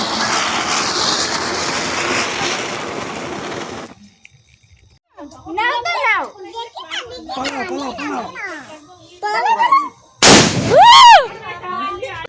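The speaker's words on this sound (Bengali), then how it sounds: "জিজু চরকি বমটা আর কি নিজের হাতেই লাগিয়ে তারপর মাটিতে ছেড়ে দেবে" A ground spinner firecracker, lit in the hand and dropped to the ground, fizzes with a loud, steady hiss for about four seconds, then stops; children shriek and talk excitedly afterward.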